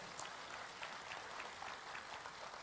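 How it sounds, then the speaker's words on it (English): A conference audience applauding a former Swedish prime minister, steady dense clapping heard from some distance, soft and even throughout with no voices over it. "Let's give him again a big round of applause."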